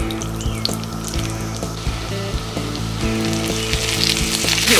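Chinese chives and eggs stir-frying in a pan over high heat, a loud continuous sizzle with the scrape and clatter of stirring against the pan, close and steady throughout.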